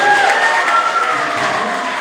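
An audience at a yoga studio's 20th anniversary celebration claps and cheers steadily, a dense, close wash of applause with some voices mixed in.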